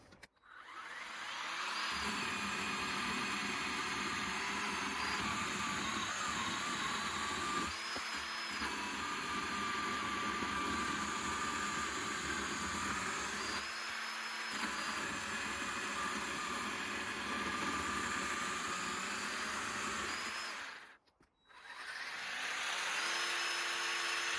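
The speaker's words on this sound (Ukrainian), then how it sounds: "Пиляти я буду суху гілку яблуні, яка вже полежала певне з півроку." Cordless MT 40 36 V multi-tool fitted with a CSA 4020 pole saw attachment cuts through a dry, seasoned apple branch: a steady, loud, continuous motor whine and chain rasp for about twenty seconds, a brief stop, then the cut resumes.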